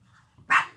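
A single sharp dog bark bursts out close and loud after a quiet stretch of low background rumble, then fades quickly.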